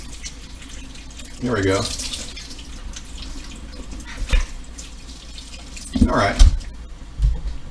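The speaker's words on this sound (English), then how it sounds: "So I think it is prudent to wash off your vegetables. So I'm going to rinse them off." Tap water runs into a kitchen sink while vegetables are rinsed, in bursts of splashing flow that rise and fall, with someone talking briefly over it.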